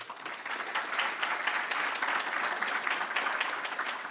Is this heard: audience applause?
yes